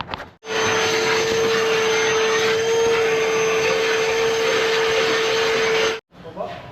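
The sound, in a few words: vacuum cleaner cleaning out bulldozer engine area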